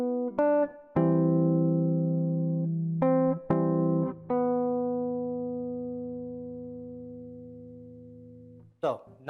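Guitar arrangement excerpt from measures 10 and 11, with a few plucked notes and chords that ring out and sustain, including a slide, played close and clear with no talking.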